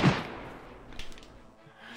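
A single Tundra rifle shot in DayZ, a sharp loud crack at the very start that decays into a rolling echo, followed by faint quieter ambient rumble.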